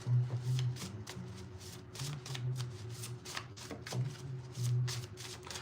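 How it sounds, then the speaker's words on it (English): Tarot cards shuffled and pulled during a live reading, giving soft repeated riffling and flicking bursts at close range with a low steady hum underneath. "Pull one more card."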